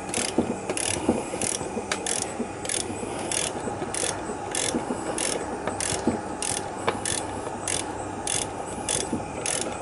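A ratchet wrench tightens the press tool during a front wheel bearing replacement on a 2003–07 Saturn Ion, giving steady, evenly spaced clicking strokes up close over a low mechanical rumble.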